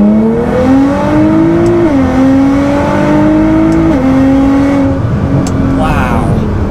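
A Nissan GT-R fitted with a race front-mount intercooler accelerates hard through the gears, its engine note climbing steadily with short dips at each shift, loud and close throughout.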